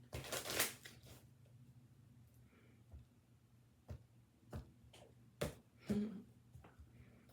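Tarot cards being shuffled during a love reading, quiet riffling and flicking in irregular bursts separated by soft taps and pauses, close and faint, with no talking.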